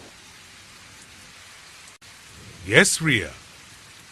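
Steady rain falls during a thunderstorm, a continuous soft hiss throughout with no clear thunder crack, while a person briefly speaks near the middle.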